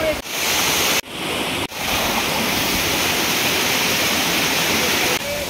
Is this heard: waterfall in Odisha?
yes